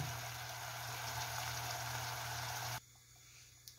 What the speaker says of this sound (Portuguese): Enquanto a carne continua fritando lá